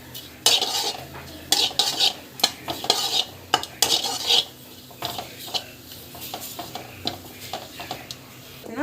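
Spices being dry-roasted and stirred in a pan for temple-style puligore podi, with a spoon scraping and clinking against the metal in irregular close strokes over a faint background hum, without any talking.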